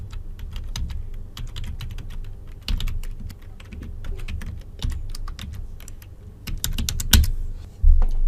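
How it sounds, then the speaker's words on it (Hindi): A password is typed on a computer keyboard during a WordPress login: rapid, close key clicks in uneven bursts throughout, with a few heavier thumps from harder presses and no speech. "यहाँ पे मैं पासवर्ड लिख लूंगा"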